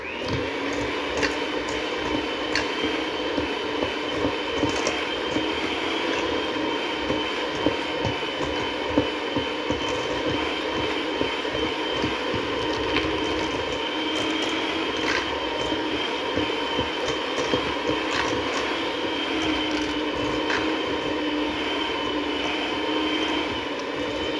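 An electric hand mixer beats butterscotch chip cookie dough in a bowl, a steady whirring motor whine lasting throughout with faint clicks of the beaters against the bowl.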